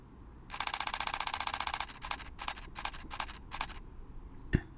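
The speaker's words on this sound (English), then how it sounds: "let's just hold down the shutter button" A rapid burst of mechanical camera shutter clicks, a long continuous rattle followed by several shorter bursts, then a single sharp knock.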